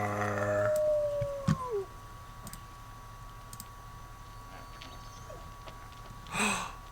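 Wolves howl in a zoo video game, with one long sliding howl at the start that drops off, then faint clicks and a quiet game ambience with a brief burst near the end.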